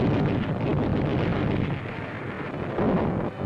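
Naval gunfire at sea in archival war footage, a continuous loud rumbling roar of heavy guns and blasts, dense and unbroken with deep low-end booms throughout.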